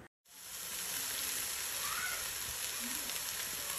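Chopped tomato dropped into a pan of onion, garlic and ginger frying for a Kerala-style karimeen coconut milk curry, giving a loud, steady, close sizzle that runs on after a short silent start.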